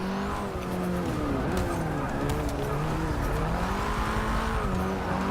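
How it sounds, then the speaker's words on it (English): Front-wheel-drive turbocharged car with quick boost and high torque spinning its wheels, an engine tone rising and falling over road and tire noise, heard from inside the car. "you see a fair amount of wheel spin"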